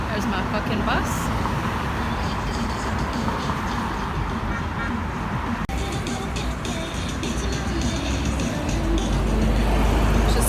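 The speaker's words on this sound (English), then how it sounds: "There's my fucking bus." City bus arriving on a street in Korea amid busy roadway traffic, a loud continuous engine rumble and road noise with brief horn toots, while a person talks over it.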